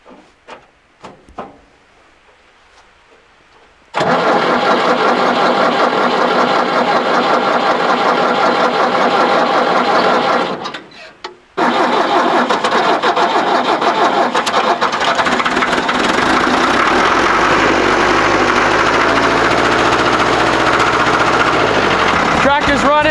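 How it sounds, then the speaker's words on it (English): Vintage Ford diesel tractor with glow plugs cranks after a quiet pause, catches and runs at a loud, steady clatter, briefly stumbling before settling into a rough idle, with people talking at times. "Tractor's running."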